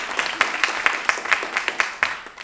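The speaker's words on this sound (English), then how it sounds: "Can we give them another round of applause" Audience applause for the Marian Anderson String Quartet, a moderate patter of clapping with scattered sharper claps, steady and fairly close for a couple of seconds.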